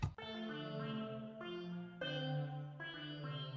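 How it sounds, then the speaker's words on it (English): A synth guitar preset on an iPad plays sustained, bright chords with sharp attacks restarting every second or so, with no talking. "Let's just change this one to, you know, a guitar sound."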